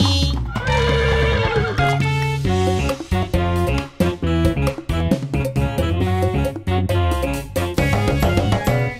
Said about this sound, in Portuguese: Mumu, cavalo.